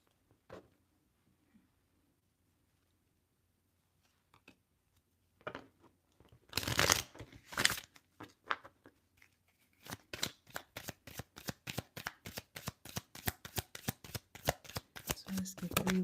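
A tarot deck, the Angels of Abundance cards, is shuffled close up, first with a few scattered handling sounds, then a long run of rapid, even riffling bursts that continues to the end.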